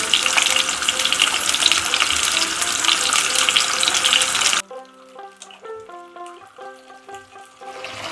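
Whole pointed gourds fry in hot oil with a dense, loud sizzle for about four seconds, then the sizzling stops abruptly and gentle music plays.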